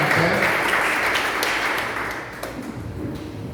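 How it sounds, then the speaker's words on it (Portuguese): Church congregation clapping in praise during a prayer service, a dense, loud wash of applause that fades somewhat toward the end. "E as palmas louvam e glorificam a Deus"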